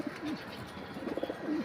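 Pakistani pigeons coo in short, soft, rolling calls, several repeating close by over a steady low background hiss.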